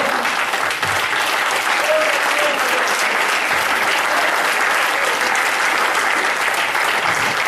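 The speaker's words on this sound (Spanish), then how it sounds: "Si tú lo crees, dale palmas al Señor." Church congregation clapping hands together during a Spanish-language worship service, loud, continuous and dense clapping throughout with voices faintly underneath.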